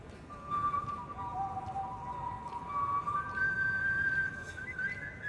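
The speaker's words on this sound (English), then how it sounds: "This is Chris Ullman, who was whistling the national anthem before the Orioles took home a 6-1 win against the Red Sox last week." A man whistles the national anthem before an Orioles home game, a clear sustained melody carried over crowd noise in a large ballpark.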